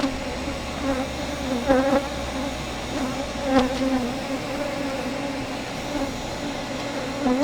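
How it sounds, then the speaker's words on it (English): A swarm of honeybees around an open beekeeper's hive buzzes steadily and close by, a dense continuous drone with a few brief swells and no talking. "Well, I got a bunch of bees that's acting like there's a queen here."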